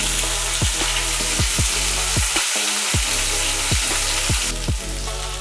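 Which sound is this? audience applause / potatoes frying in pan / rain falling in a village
potatoes frying in pan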